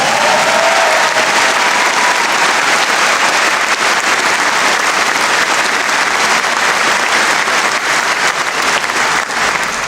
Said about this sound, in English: Go on, clap yourself.